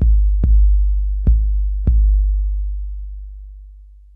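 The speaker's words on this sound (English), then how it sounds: "I have a 808 bass sound and I have like a generic kick drum sound." An 808 bass in FL Studio rumbles as a deep, sustained sub tone that slowly fades, with three sharp generic kick drum hits punching through at uneven intervals.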